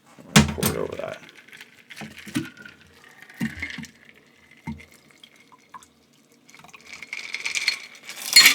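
Cocktail liquid poured over a smoked ice ball in a glass: a few clinks and knocks, then a soft trickling pour that builds near the end, close and quiet, with some talking.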